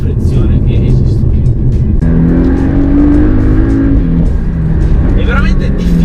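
A Porsche Boxster S 718 with a dual-clutch gearbox is on the move, its engine giving a steady drone that swells into a rising tone, with someone talking over it throughout.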